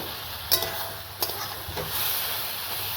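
A spoon stirs fried tomato and coriander with turmeric, salt and cumin in a pan, a few soft scrapes and clinks over a low steady sizzle.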